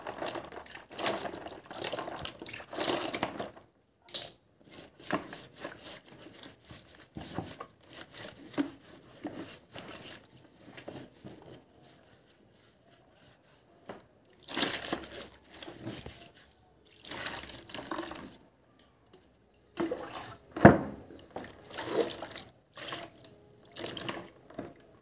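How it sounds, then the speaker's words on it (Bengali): Feet being washed with warm water, with intermittent splashing, trickling and dripping in bursts separated by quiet pauses, close by and moderately loud. "এবার আমি পাটা গরম জল দিয়ে ধুয়ে নেব।"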